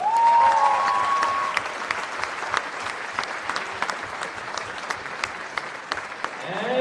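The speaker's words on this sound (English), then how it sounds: "Let's give all these outstanding student athletes, coaches, and staff one more round of applause." Sustained applause from the crowd at an NCAA Division III women's volleyball regional final, honoring student athletes, coaches and staff; dense clapping fills the whole span, loudest at the start, with a brief voice or whistle-like tone early on.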